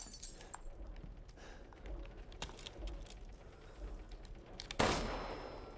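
In the Resident Evil Village video game, several sharp gunshots crack over a busy ambient backdrop, followed by a loud, bright metallic clang as a bell is hit and rings out and then fades.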